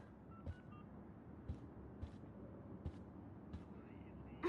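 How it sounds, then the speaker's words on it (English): In the video game Life is Strange, an electronic alarm beeps faintly in short, evenly spaced pulses over a quiet background hum, with a few sharper blips between them. "At least that's an alarm from this century."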